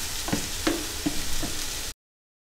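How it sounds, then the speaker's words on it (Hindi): Chopped cauliflower and onion fry in hot mustard oil with cumin, giving a soft, steady sizzle broken by a few light stirring scrapes before it cuts off abruptly. "इसे हम अच्छे से फ्राई करेंगे ताकि इसका मॉइस्चर बिल्कुल सूख जाए"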